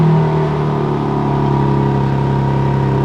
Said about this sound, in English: we're gonna turn on the car and you guys are gonna hear what it sounds like. Stock downpipe, stock exhaust.